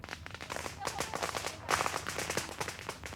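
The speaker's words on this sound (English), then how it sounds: "Fireworks to frighten away evil spirits." Fireworks are set off at a family grave in the hills of a Chinese village, and rapid crackling bursts of firecrackers pop continuously and loudly with dense, irregular bangs throughout.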